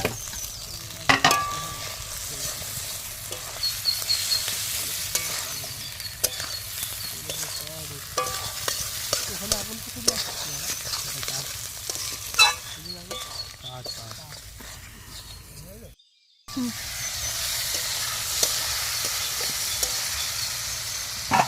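Potatoes and ginger frying in a pan at an outdoor picnic deep in the Sundarbans forest, a steady sizzle with stirring scrapes running throughout, briefly cut off near the end before resuming, with voices talking over it.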